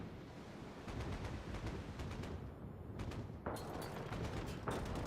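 Video game tickle shot attacks landing as sharp percussive impacts over a dense, noisy rumbling backdrop, with a couple of distinct hits in the second half.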